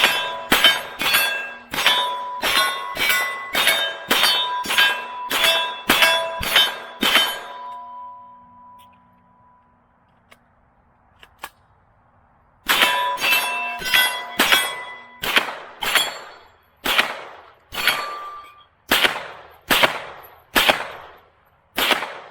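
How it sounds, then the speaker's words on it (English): An AR9 carbine fires rapid, evenly spaced loud shots with a metallic clang on each, a magazine swap leaves a quiet pause with faint handling clicks, then the shooting resumes at a gradually slowing pace. "So the mag swap wasn't too bad."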